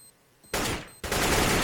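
Gunfire in a Counter-Strike esports match as a headshot lands, two sharp bursts of shots in quick succession, loud and close, the second continuing as a sustained roar of fire.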